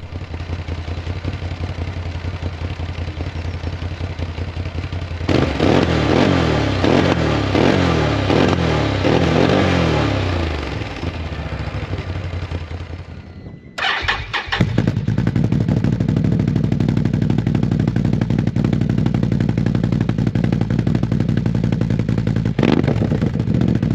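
Can-Am Outlander 1000 ATV fitted with an RJWC dual mud exhaust, idling steadily before revving hard with crackling pops, cutting out briefly, then restarting into a loud, sustained rumbling idle up close.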